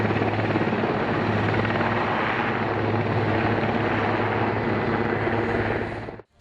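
An attack helicopter roars steadily at close range, engine whine and rotor thrum loud and continuous, then cuts off abruptly at the end.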